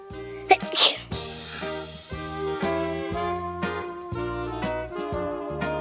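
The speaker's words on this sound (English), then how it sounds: "The soap suds made her sneeze. Achoo!" A cartoon character gives a loud, sharp sneeze set off by soapy water suds, followed by a light musical score.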